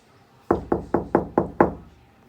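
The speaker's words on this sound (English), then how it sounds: "there came a knocking at the street door." Six firm knocks on a street door come in a quick, even series, close and loud against a quiet background.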